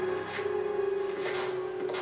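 A 3D printer duplicator in Resident Evil Code Veronica runs with a steady mechanical hum and tone, overlaid by three soft rasping sweeps, close and moderately quiet.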